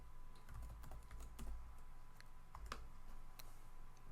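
Quick, light keystrokes on a computer keyboard as a command is typed at a Linux console, a short run of close clicks with soft thumps underneath, quiet and alone.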